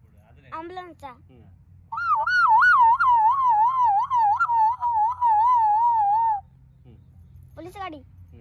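A voice imitates an ambulance siren with a long, loud warbling wail, after brief speech from others; faint background murmur throughout.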